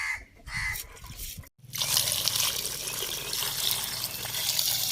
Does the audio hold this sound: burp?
no